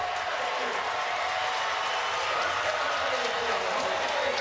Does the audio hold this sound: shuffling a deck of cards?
no